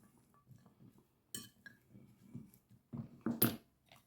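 Cooked chickpeas stirred on a plate with a utensil: soft, irregular scraping and light clinks of metal against the dish, quiet and close, with a sharper clatter near the end.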